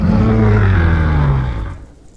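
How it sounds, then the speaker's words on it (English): A Miragaia dinosaur in the video game Path of Titans gives its regular call, a single loud, low, drawn-out bellow that slides gently downward and fades away at the end. "Here's the regular call, which you would hear if you typed in chat."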